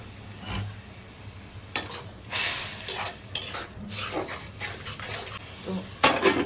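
Turmeric, chili, coriander and salt frying with shrimp in a pan, stirred repeatedly with scraping strokes over a continuous low sizzle, close and moderately loud.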